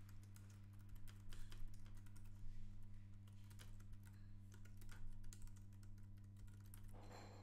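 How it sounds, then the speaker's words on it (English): Rapid, irregular clicking of keys on a computer keyboard, close and fairly quiet, over a steady low electrical hum. "as I'm typing this in"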